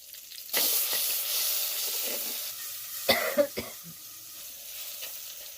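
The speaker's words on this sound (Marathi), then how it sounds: "तेल गरम झाल्यावर सर्वात आधी आपण असं मिरची आणि लसूण बारीक केलेलं असं टाकलेलं आहे" Finely chopped green chilli and garlic hit hot sweet oil in a pan, giving a steady loud sizzle with a few stirring scrapes and clanks partway through.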